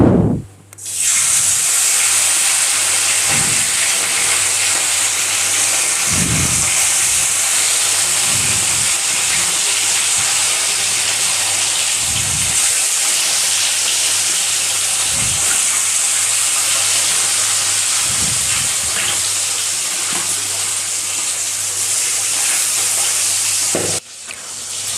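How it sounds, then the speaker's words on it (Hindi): Small fish frying one by one in hot mustard oil in a kadhai give a steady, loud, close sizzle that runs nearly unbroken, with a few soft low knocks from handling the pan. "मछली फ्राई करने के लिए हमने यहाँ पे एक कढ़ाई में 5 से 6 बड़े चम्मच के जैसे सरसों के तेल गरम करने के लिए दिए थे"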